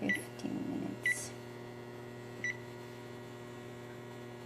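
An oven timer being set while baking sushi, a few short electronic beeps over a steady appliance hum, with no one talking.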